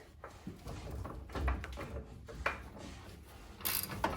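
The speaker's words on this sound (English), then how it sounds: "And now I can safely take this upper nut off here." A hand ratchet clicks in short, irregular bursts while loosening the upper nut on a QA1 coilover of a 1977 Chevy Camaro in a garage, close and fairly quiet, with a few metallic clunks between strokes.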